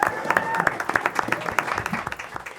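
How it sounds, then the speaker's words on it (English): Brief applause and a few distinct claps from a small audience at a school board of education meeting, moderately loud with some voices mixed in. "Why don't we give Tino a good round of applause for doing an excellent job tonight."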